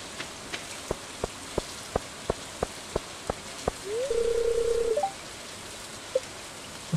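Rain patters steadily across the ground in Stardew Valley, a soft continuous hiss broken by regular ticking footsteps and a short synthetic tone partway through.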